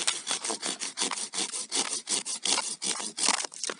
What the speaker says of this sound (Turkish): Kalın bir dal kestik.